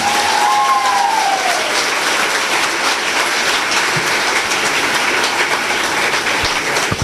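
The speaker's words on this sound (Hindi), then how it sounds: "ताली हो जाए।" Audience applause at a business motivation talk: a dense, steady wash of clapping that fills the whole stretch at even loudness, with no voices over it.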